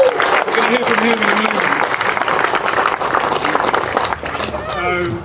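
Crowd applause at a 70th anniversary gathering for the first Land Rover overland expedition, a dense sustained wash of clapping with a voice speaking over the start and again near the end.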